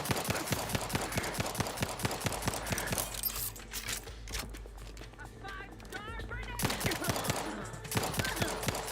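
Rapid gunfire rings out in The Outer Worlds 2, a dense run of sharp cracking shots that pauses briefly midway, then resumes just as loud.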